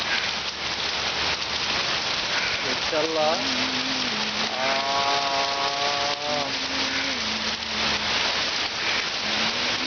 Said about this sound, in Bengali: ঢাকার এই ঝড় বৃষ্টি রেকর্ড করা হচ্ছে